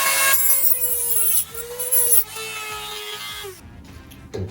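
A hand tool cuts a VW Beetle beaded rail, a steady scraping, rasping stroke with a tonal ring that repeats for several seconds, stops briefly, then resumes before a short clatter at the end.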